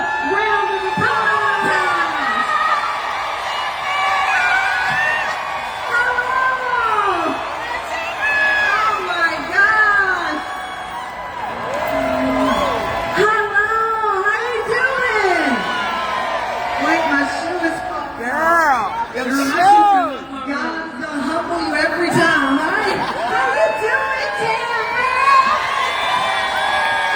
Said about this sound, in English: let's give Tamron Hall a big Chicago round of applause